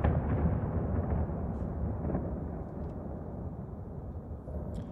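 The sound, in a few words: large explosions near Kyiv in war footage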